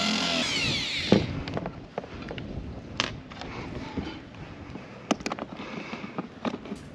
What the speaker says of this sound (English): Now you need to drill a hole big enough to put a nut inside.